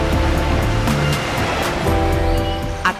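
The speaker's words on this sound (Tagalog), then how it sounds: "Ang musika ng mga hampas ng alon." Steady roar of ocean surf at a sandbar in Tawi-Tawi, Philippines, with waves crashing continuously, loud and close, no voices.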